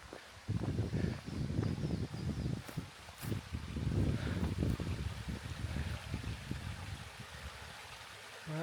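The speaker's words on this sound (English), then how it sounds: "There's a little waterfall in there." A small waterfall near Uisken Beach on the Isle of Mull, Scotland, giving a steady close rushing and trickling of water, with some rustling and footstep-like handling noise over it.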